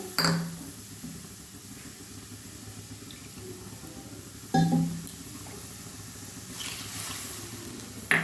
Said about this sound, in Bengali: এবার আমি ঝোলের জন্য জল দিয়ে দিলাম।